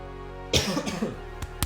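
A short throat-clearing cough, then a couple of smaller coughs, close up against a low background hum.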